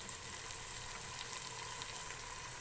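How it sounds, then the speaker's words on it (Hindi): Masala spices fry in a pan for vegetable pulao, giving a faint, even sizzle that holds steady throughout without pause. "और मसाले को थोड़ा सा भून लेंगे।"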